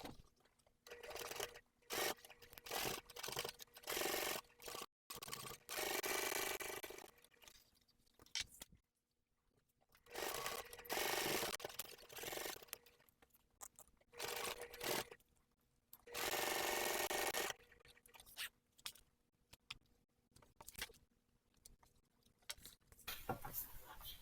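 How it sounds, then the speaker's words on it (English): A sewing machine runs in quiet bursts, stitching the boxed corners of a clear vinyl tote, stopping and starting several times, with soft rustling of material between runs. "So I will do that over at the sewing machine."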